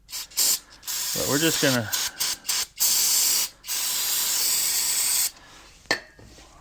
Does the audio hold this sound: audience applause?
no